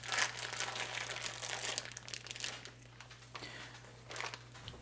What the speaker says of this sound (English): Get it out of its packaging, obviously.